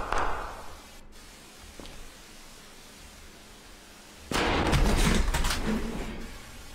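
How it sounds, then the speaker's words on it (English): A door blown off its hinges in a video game bursts out as a sudden loud crash with a sustained rumbling wash of debris, after a quieter stretch. "Oh my God, they blew the door off the hinges."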